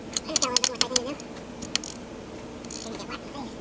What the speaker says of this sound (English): I just got a little bit more typing to do.